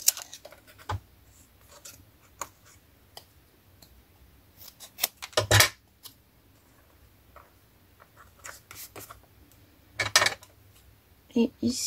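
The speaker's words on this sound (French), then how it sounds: "je vais couper à la ligne" Scissors snipping through paper along a line, a series of short sharp cuts scattered irregularly, close and fairly quiet, with some talking between them.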